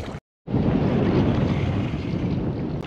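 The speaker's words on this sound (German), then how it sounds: "wie ihr merkt, pustet der Wind wieder ordentlich" Strong wind roars steadily across the microphone while kayaking on open water near Schwerin, loud and continuous after a brief silent gap at the start.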